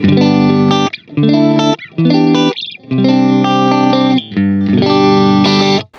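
Distorted electric guitar, a Fender American Professional II with a DiMarzio DP180 pickup, played with three pickups combined: a few bright chords in short bursts separated by brief pauses, loud and close, without any talking.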